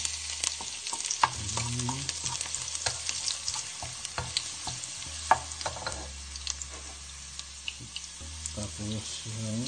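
Garlic sizzles in a hot pan while being stirred, with scraping and clinking of the utensil over a steady fry, close and fairly quiet.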